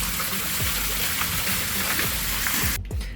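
An electric pool water pump splashes water in a loud, close, continuous gush with small bubbling spurts. It cuts off abruptly just before the end.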